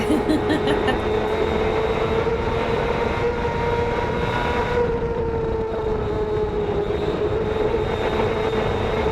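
Onboard a racing motorcycle at the Isle of Man TT, bumping over the road: a loud, sustained, high-pitched engine whine holds steady close by, with no talk.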